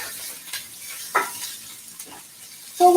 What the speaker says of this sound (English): So we leave the onions to simmer down, to just cook